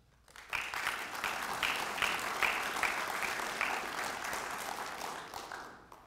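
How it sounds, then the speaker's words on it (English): Sustained audience applause at a chamber of commerce gathering, dense clapping from a sizable crowd rising quickly and holding steady for several seconds before tapering off at the end. "So I would like to give a round of applause and recognize you all for all your service."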